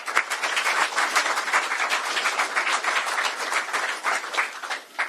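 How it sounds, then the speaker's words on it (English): An audience at a bill signing event applauds the mayor with dense, sustained clapping that holds steady for several seconds before tapering slightly at the end, with no talking over it. "Round of applause to the mayor."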